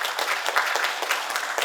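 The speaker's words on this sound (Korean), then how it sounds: "한번 박수 한번 보내주시면 고맙겠습니다." Audience applause at a Korean public forum on preventing electric-vehicle fires, a steady wash of many hands clapping, fairly loud and sustained throughout with no voices over it.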